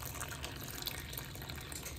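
Water poured from a cup into a bowl of flour, yeast and sugar for French bread dough, a steady close splashing gush running without pause and without voices.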